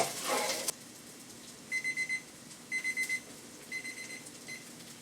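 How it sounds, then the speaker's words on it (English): A kitchen timer beeps in four quick groups of four high electronic pips, clear and close, after a brief burst of sizzling noise from a chicken stir fry at the start. "We can stop the timer."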